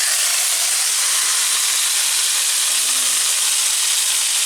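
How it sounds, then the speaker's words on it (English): Chicken tikka marinade hits a preheated, oiled pan and stir-fries with a loud, steady sizzling hiss that holds unbroken throughout. "So we're gonna stir fry this marination"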